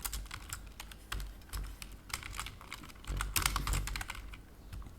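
Fast typing on a computer keyboard while writing code to test a REST API endpoint, dense irregular clicking bursts close up throughout, with occasional louder clusters of keystrokes.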